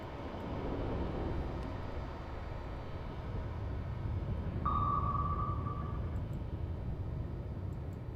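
Single loud sonar ping from an active-homing torpedo in a submarine combat game, a steady tone lasting over a second, set against constant dense low rumble and water noise.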